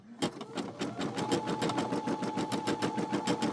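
A Brother SE600 embroidery machine stitches eyes and a mouth onto felt, its needle chattering in a fast, steady rhythm under a continuous motor hum, close and alone.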